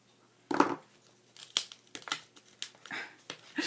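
Card stock being cut with scissors for a circle-themed handmade card: a few close, sharp snipping and crinkling bursts spaced over a few seconds against a quiet room, with no talking.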